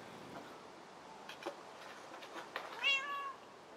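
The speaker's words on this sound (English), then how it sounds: "Was that meowing? Was that in your game, or was that a real cat? That's in the game" A cat meows inside a video game, a short rising-and-falling call near the end over a soft background hum with a few faint ticks, no talking.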